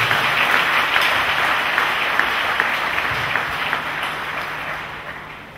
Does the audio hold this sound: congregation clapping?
yes